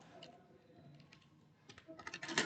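Keys clatter on a computer keyboard while a value is entered at a Java program console, with faint scattered presses at first and then a quicker, louder burst of close typing toward the end.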